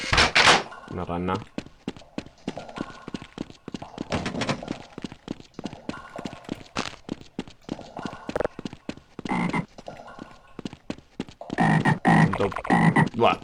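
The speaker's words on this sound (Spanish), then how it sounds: "Una rana." A frog in the video game Half-Life: Azure Sheep croaks in a rapid series of loud, rhythmic clicking croaks that keep going throughout, with someone talking over them at times.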